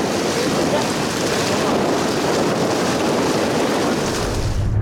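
Rough ocean with waves of six to eight feet, heard from a moving boat as a steady, loud roar of water and wind buffeting the microphone throughout.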